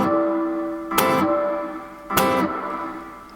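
An electric guitar plays a riff. Two bright, clipped chord stabs sound about a second apart over a sustained, slightly distorted ring, with no voice.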